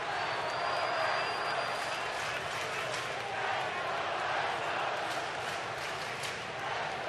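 Steady roar of a baseball stadium crowd at a White Sox versus Astros game, a broad continuous murmur with scattered claps and shouts, heard from within the stands.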